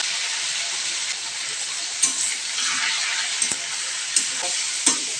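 Meat sizzles loudly in hot oil with ginger, cumin, garlic, dried and green chillies and salt, giving a continuous close hiss broken by a few soft clinks of stirring.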